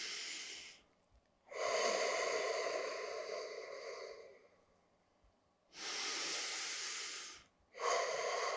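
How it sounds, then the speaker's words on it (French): Slow, deliberate breathing during a Pilates leg-strengthening exercise: long, close, airy inhales and exhales separated by short pauses, with no talk. "Et on respire à nouveau lentement."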